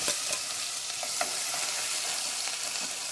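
Pounded garlic and curry leaves fry in a pan in a continuous close sizzle, with occasional faint stirring clicks and no voices.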